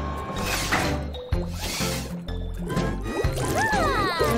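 Wet cartoon-like squishing, gurgling liquid and bursting bubbles as slimy mud is scrubbed away, with a musical backing running beneath and a burst of rising whistly pops near the end.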